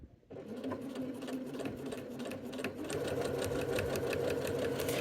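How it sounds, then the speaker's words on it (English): A Britannia T190/120 sewing machine starts up and stitches parallel quilting rows with a quilting guide, a steady, close, rapid mechanical whir and needle clatter running continuously after a brief quiet start. "So that's how to use your quilting guide to make parallel rows of stitching without having to draw them all out first."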